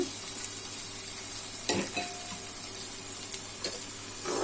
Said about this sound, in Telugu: బాగా కలుపుకోవాలండి కారం పట్టేలాగా కొంచెం మగ్గనిద్దాం